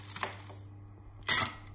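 Small pieces of broken chocolate, 200 g in all, tip into a saucepan of cream in a home kitchen, a soft scattered clatter, then a brief louder rattling tumble close by, with no talk.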